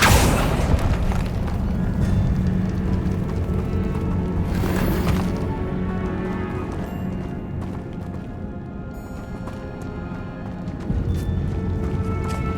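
Accio summoning spell cast in the video game Hogwarts Legacy: a loud burst of magical whoosh and rumble over a sustained, booming game soundscape with no speech.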